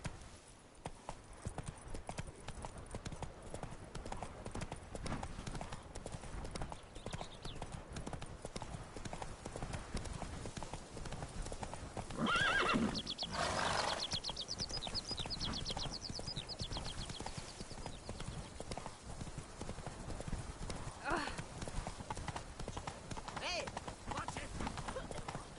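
Roach the horse gallops in The Witcher 3 video game, with a steady, rapid clip-clop of hooves running continuously under game sound, briefly joined by a louder burst midway.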